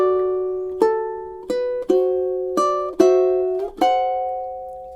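Fingerstyle ukulele plays two measures of a relaxing song, six plucked notes and chords ringing out one after another at an unhurried pace, close and clear with no talk.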